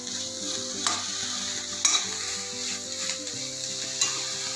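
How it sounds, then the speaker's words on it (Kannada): Bitter gourd stirred in hot sizzling tempering oil for a gravy, a steady frying hiss with a few sharper scraping clinks of the spoon, close and continuous, no talking. "ಈಗ ಒಗ್ಗರಣೆನಲ್ಲೂ ಸ್ವಲ್ಪ ಆಡಿಸಿಪ್ಪ"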